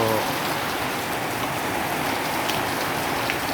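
Steady rain pouring onto flooded elementary school grounds, a dense, even hiss of falling drops that is loud and continuous, with no voices.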